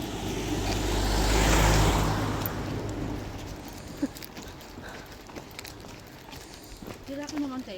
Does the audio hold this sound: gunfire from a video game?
no